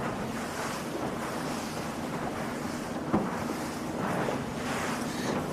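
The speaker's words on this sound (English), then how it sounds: "You see the waves starting to build up." Sea waves wash and surge continuously around a racing sailboat in a TP52 world championship off Cascais, a broad rushing roar mixed with wind buffeting the microphone, steady and moderately loud with no talking.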